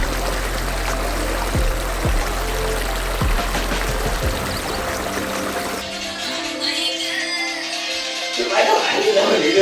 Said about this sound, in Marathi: आवाज बघा, पाण्याचा आवाज.